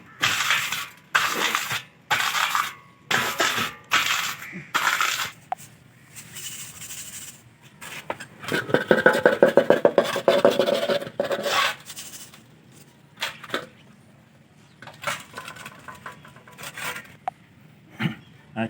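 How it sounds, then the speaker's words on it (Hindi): Burnt computer RAM material is ground by hand in short, repeated scraping and rasping strokes, close and fairly loud. A rougher grinding burst comes in the middle, then more scattered scrapes. "तो इसमें हम अभी इसको थोड़ा ग्राइंड कर देते हैं।"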